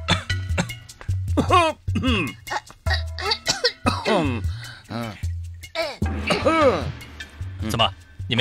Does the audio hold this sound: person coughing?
yes